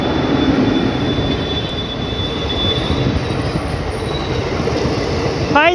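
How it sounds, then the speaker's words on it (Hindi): A Pilibhit–Bareilly City passenger train rolls along the rails, a loud, continuous rumble of wheels and railcars close by, with a steady high-pitched wheel squeal running over it. "और ये पीलीभीत बरेली सिटी 0-53-40 पैसेंजर।"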